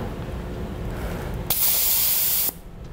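Air hisses sharply from the valve of a Firestone Ride-Rite rear air helper spring on a 2012 Ford during a pressure check, a loud one-second burst that cuts off abruptly over quieter background noise.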